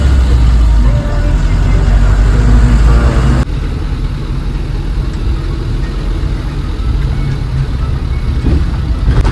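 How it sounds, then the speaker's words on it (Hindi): A bus climbs slowly up a narrow mountain road in the Salooni valley, its engine a low, steady rumble that drops slightly in level partway through and carries on evenly. "बस अपनी धीमी सुरीली रफ्तार में पहाड़ियों की ओर बढ़ती जा रही है।"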